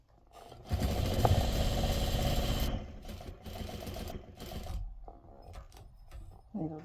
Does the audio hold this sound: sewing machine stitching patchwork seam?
yes